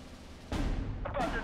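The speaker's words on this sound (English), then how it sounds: "And here comes the bombs from the P51, which is going to force back my Panzer 1C." Bombs dropped by a P-51 explode in the Steel Division: Normandy 44 war game, two heavy booming blasts about half a second apart, the second following a brief rising whoosh, loud and close.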